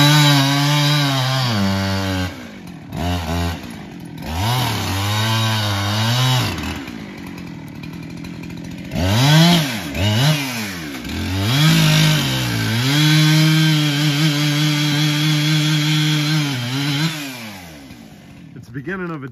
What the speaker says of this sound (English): You want me to cut the 8-footer